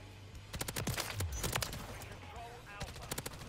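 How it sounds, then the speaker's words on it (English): Rapid automatic gunfire bursts in the video game Call of Duty Modern Warfare III, loud clustered shots in several quick volleys with a few lower rumbling impacts between them. "Yo, teammate, no, why are you shooting me"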